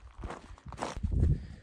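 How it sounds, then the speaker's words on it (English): A hiker's footsteps crunch along a mountain trail beside a creek at about 11,475 feet on the Pacific Crest Trail, a handful of close steps in an uneven rhythm over a soft, quiet background. "Just hear the sound of the creek and my footsteps"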